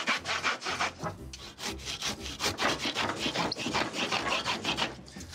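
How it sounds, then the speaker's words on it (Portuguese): A handsaw rasps back and forth, roughly cutting tree bark in quick, rhythmic strokes, loud and close, with no talking. "Aqui na parte do serrote pode ser um corte bem grosseiro."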